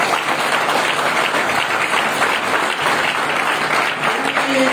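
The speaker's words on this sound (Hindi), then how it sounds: "एक बार जबरदस्त तालियां हो जाए" An audience at a training session claps loudly and continuously, a thick, sustained burst of many hands with no voices standing out.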